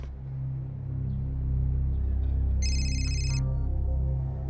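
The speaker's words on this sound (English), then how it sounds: "Menina gets a phone call from the victim's cousin" A telephone rings with a short electronic burst partway through, set over a steady low hum and background murmur in a crime documentary scene.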